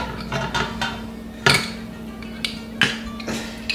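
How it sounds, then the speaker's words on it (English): Sticky currant jelly spooned out of a jar into a cooking pot, with repeated metallic clinks and knocks of the spoon against jar and pot rim over a steady low hum. "Next ingredient is the currant jelly. Spoon that out into the pot."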